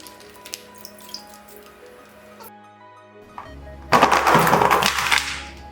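Water drips and trickles softly as boiled flat meatballs drain, then a louder rush of pouring water splashes for a couple of seconds near the end.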